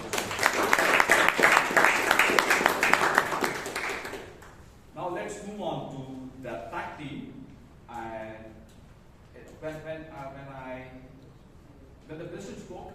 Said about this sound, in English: So round of applause for